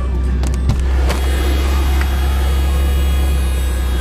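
A 1990 Ferrari 348TS idling, its engine a steady loud low rumble with a constant hum throughout, close by, just before being shut off.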